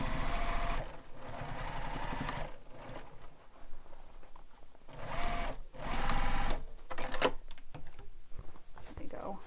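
Sewing machine re-stitching a handbag seam, a rapid mechanical whirring chatter in several bursts separated by short pauses, close and fairly loud.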